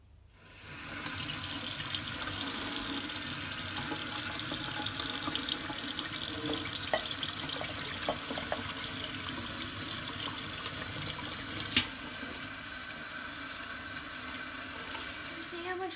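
Tap water runs steadily into a sink while sushi rice is washed, a constant, fairly quiet rush with a single brief clink near the end.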